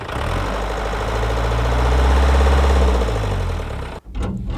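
A bus engine runs loud and close during a test drive, a deep rumbling drone that swells and then cuts off sharply before resuming briefly at the end.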